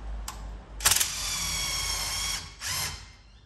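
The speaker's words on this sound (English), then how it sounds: "And now I can undo that top bolt safely." A power tool undoes the top bolt on a Ford Falcon's coil spring during spring chopping: a brief whir, then a loud sustained spin of about a second and a half, then one more short burst, all close by.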